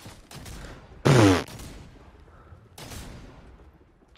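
Gunfire in a video game, with one loud, close burst of shots near the start and fainter shot sounds later over a low background.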